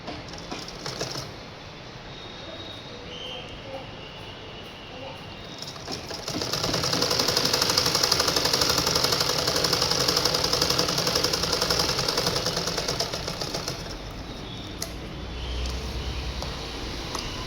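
Sewing machine stitching a gown in a tailoring class, a quiet background hum at first that swells into a steady, close mechanical whir of continuous stitching for about eight seconds before easing off.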